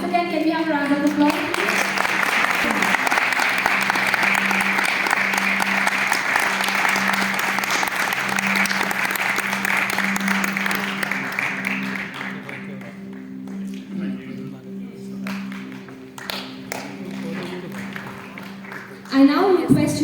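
Audience applause at an award ceremony honoring Nepali Kanchenjunga summiteers: dense, sustained clapping from a crowd for about twelve seconds, then thinning out into a quieter hall with a low steady hum.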